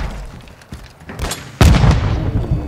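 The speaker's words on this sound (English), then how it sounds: "Old Strasser, plant the charge on the target and destroy it" A planted charge detonates in the video game Modern Warfare 2, a sudden loud boom that swells partway through and rolls on with rumbling debris over quieter gunfire-like game noise.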